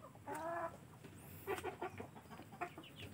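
Aseel Parrot chickens in a backyard pen give a few short clucks and squawky calls, one drawn-out call near the start followed by scattered quick clucks, faint and fairly close.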